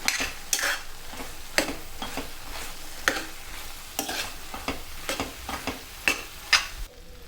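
A spoon stirs potato capsicum curry with salt and coriander powder, giving a quiet pan bubble under regular scraping clinks roughly every half second, with no one speaking.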